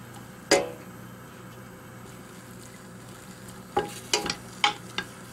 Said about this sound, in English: add the smoked bacon. And we just have to let that crispy.